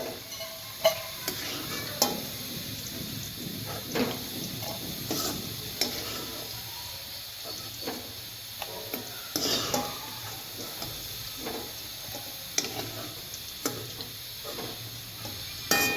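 Fried okra for a bhindi masala being lifted out of hot oil in a pan, with soft ongoing sizzling and repeated scrapes and clinks of a utensil against the pan, close and moderately loud.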